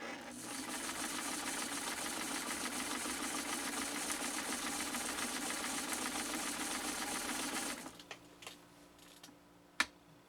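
A renewed 1972 Kenmore 1318 sewing machine stitching through two layers of elk hide, a fast steady mechanical whir and clatter for about eight seconds that then stops, followed by a few faint clicks and one sharp knock.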